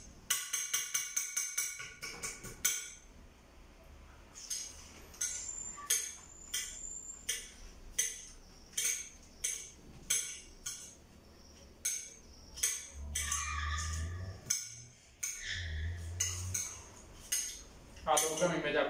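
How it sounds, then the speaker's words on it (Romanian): A knife slices through a bell pepper on a board while a homemade Brazilian salad is prepared, giving a long run of sharp, rhythmic clicking chops, sometimes in quick bursts, with a few softer low thuds between them. "Așa se taie ardeiul."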